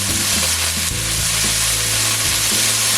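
Beef steaks sear in a hot pan for Jamaican-style pepper steak, throwing off a loud, close, continuous sizzle with a faint low hum beneath.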